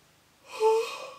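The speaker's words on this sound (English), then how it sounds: "I hate yawning on camera" A person gives a breathy, drawn-out yawn with a faint voiced tone, rising from quiet and fading out over about a second.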